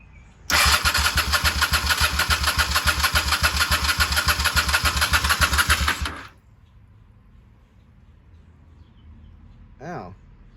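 A 1995 Honda Shadow VT600C motorcycle engine, choke pulled, cranks and fires into a loud, rapid, steady rumble for about six seconds, then cuts out abruptly, leaving quiet background and a brief faint sound near the end.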